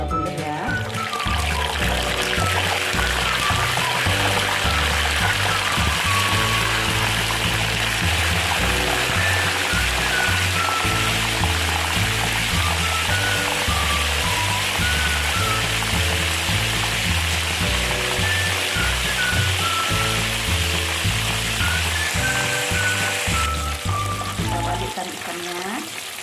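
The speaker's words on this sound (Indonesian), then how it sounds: "Kita goreng dulu ikan nilanya." Tilapia sizzles and crackles loudly in hot oil, a dense continuous frying hiss up close, with music playing underneath the whole time.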